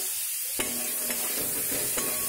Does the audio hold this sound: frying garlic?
yes